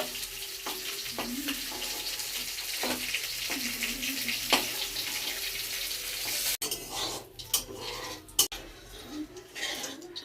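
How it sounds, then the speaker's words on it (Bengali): Fish sizzles in a pan as a steady hissing fry for most of the time, with a few clinks and scrapes toward the end. "মাছগুলো ভাজা হয়ে গেছে, তুলে নেবো"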